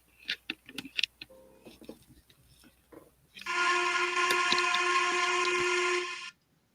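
A loud, sustained whistle blast in a horror video game jump scare, bursting in after scattered softer sounds and holding steady for about three seconds before cutting off abruptly.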